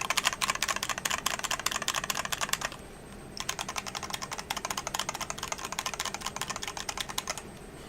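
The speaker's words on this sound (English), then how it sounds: "this is a Razer keyboard. You know, it's how it sounds." Typing on an old Razer computer keyboard, rapid clattering keystrokes in dense bursts with a brief pause midway, close and clear, no talking.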